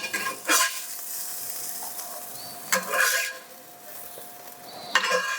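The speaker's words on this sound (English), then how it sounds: "We're going to let them kind of brown down and get that caramelization on them" Onions sizzle and brown in a skillet, a steady soft frying hiss broken by a few clattering bursts of a utensil stirring against the pan.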